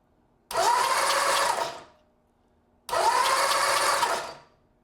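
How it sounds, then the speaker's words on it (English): A motorcycle motor on a 1975 bike being spun over to test for spark, giving two loud, steady whirring bursts of about a second and a half each, separated by a short pause, close by and with no talking. "I'm going to spin the motor in the dark."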